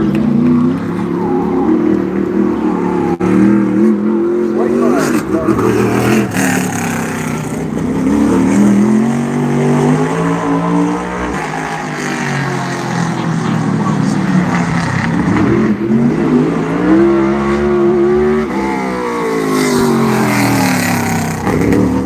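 Modified race cars circle the track during qualifying, engines roaring and rising and falling in pitch as cars pass, loud and continuous with a crowd-like wash behind.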